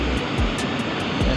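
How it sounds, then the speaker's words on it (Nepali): A Turkish Airlines passenger jet approaches to land in Malta, its steady engine roar loud and continuous, with a few faint wind buffets through the brief stretch. "प्लेन आउँदैछ है त टर्किस एयरलाइन्स रहेछ"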